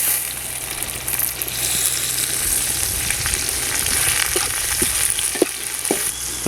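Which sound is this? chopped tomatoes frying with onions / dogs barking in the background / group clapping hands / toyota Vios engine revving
chopped tomatoes frying with onions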